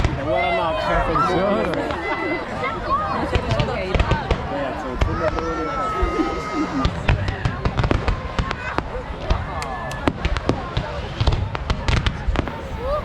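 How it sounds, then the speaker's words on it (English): Rapid, irregular crackling and popping of fireworks launched from a boat fills the air in a Swiss mountain town, with a crowd chattering and voices underneath throughout. "The fireworks went on for a whole 20 minutes."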